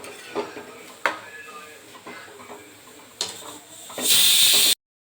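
Cooked radish greens with gram flour are stirred in a pot: a few sharp spoon scrapes and knocks spaced apart over soft background noise with faint talk, ending in a brief loud hissing burst before it cuts off.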